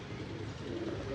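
A pigeon coos softly in the background at a loft where pigeons are kept, low murmuring calls over a steady ambient hum.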